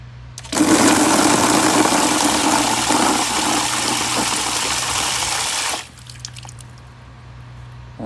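Water rushes steadily through a Meross smart sprinkler timer, a loud, even hiss that starts abruptly, holds for about five seconds and cuts off sharply, leaving a quieter background.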